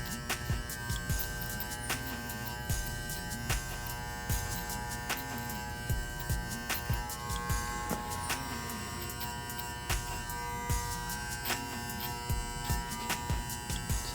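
Electric hair clippers buzz close and continuously while cutting a high skin fade, with the motor's pitch dipping and wavering as the blade works through the hair.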